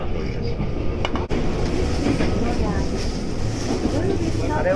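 An Izukyu local train bound for Izukyu-Shimoda, heard from inside the car as it runs, with a steady broadband rumble of wheels and motors. Cabin noise is continuous and a brief clunk comes just past the first second.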